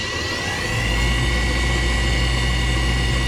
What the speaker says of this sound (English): Need to run the lathe in reverse. Okay, spindle on.